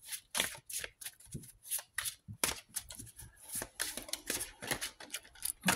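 Oracle cards from an Island Time Wellness Love deck being shuffled by hand, a steady run of crisp, papery riffling bursts up close with brief pauses between them and no talking.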